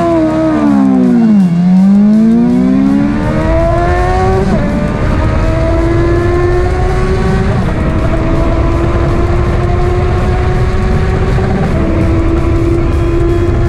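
A KTM Duke 790 and a Suzuki GSX-S750 motorcycle in a drag race rev up and whine through rising and falling pitch sweeps, shifting gears several times as they accelerate close by.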